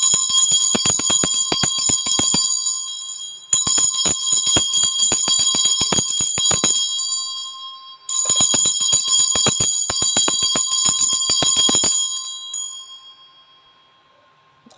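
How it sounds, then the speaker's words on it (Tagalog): A bell rung repeatedly in three long bursts of rapid bright metallic strikes with ringing overtones, loud and close, the last burst fading away into quiet. "i-ring ko lang yung bell."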